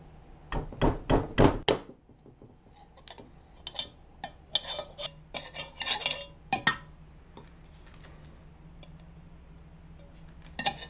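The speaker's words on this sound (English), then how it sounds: "I'm just gonna wiggle this around until I can finagle the tube in" Tube being wiggled and pushed into a hole poked in a jar lid, a quick burst of sharp knocking taps, then scattered plastic clicks and scrapes, close and irregular.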